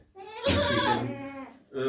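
Goat kids bleat in a winter brooder room, a long wavering cry followed by a second call starting, loud and close.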